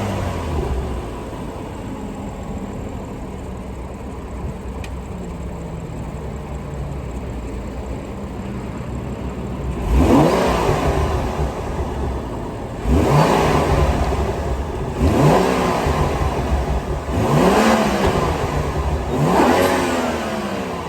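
A BMW M235i with N55 engine and stock air filter idles steadily, then revs up in four sharp bursts, each rising and falling back, loud and close.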